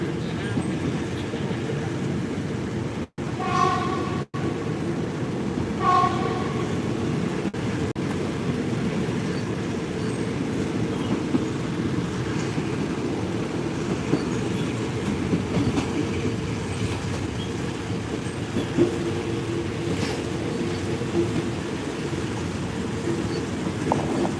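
A passenger train between Bangkok and Ayutthaya, Thailand, rumbles along the rails in a steady roar heard from inside the carriage, with a few brief clicks and squeaks early on and faint talk in the background.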